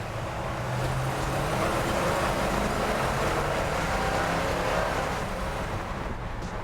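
A vintage Chevrolet 3100 pickup truck accelerates on a road toward about 45 miles an hour, its engine drone and road noise steady and close from inside the cab, with no talking.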